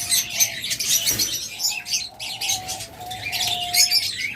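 Caged pet birds at a bird shop, including diamond doves, lovebirds, budgerigars and cockatiels, chirp and tweet continuously at close range, with a brief flutter of wings and a sustained whistling call.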